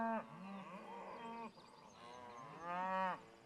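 Cattle on a horseback-worked herd moo loudly and close by, two long drawn-out calls, one at the start and another near the end, with a lower bellow between them.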